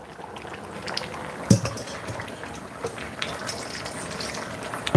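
Brown stew with its juices poured into a pot, giving a soft, continuous liquid rush with a few clinks and bumps, one sharper knock near the middle and another at the end, with no talking.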